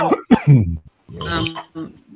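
A harsh cough followed by throaty, rasping clearing sounds in quick, uneven bursts, loud and close.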